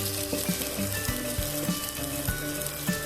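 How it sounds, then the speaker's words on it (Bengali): Chopped carrot stir-fried in a hot pan for a Chicken Manchurian: a steady, close sizzle with soft scraping stirs recurring every half second or so, no voices. "একটা ছোট সাইজের গাজর কুচি দিয়ে পনেরো সেকেন্ড নেড়েচেড়ে নিতে হবে"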